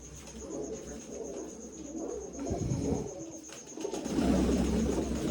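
Soft, low cooing from pigeons nearby, including a young pigeon, repeated in gentle throaty bursts over a faint background hum.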